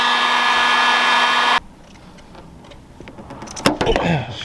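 A heat gun warming new vinyl wrap on a disassembled Cadillac Escalade rear hatch, a loud steady blowing hum that cuts off abruptly, followed by quieter shop clatter and knocks.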